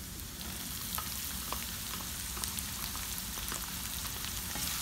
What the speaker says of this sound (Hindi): मैं इसको 1 मिनट के लिए थोड़ा सा फ्राई करूँगी। फिर मैं इसमें अपनी ग्रीन जो अनियन है